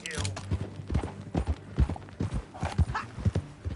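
A horse's hooves clip-clop in Red Dead Redemption 2, a close, rhythmic series of thudding footfalls on hard ground, with a brief whinny and snorting amid the steady plodding.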